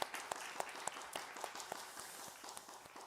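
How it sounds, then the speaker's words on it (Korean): Worship congregation clapping at a church college-group Sunday service, a steady patter of many hands with sharper accents, fairly quiet and even throughout. "우리 수련회 가운데 함께 하시는 주님께 다시 한 번 더 영광과 존귀의 박수 올려드립니다"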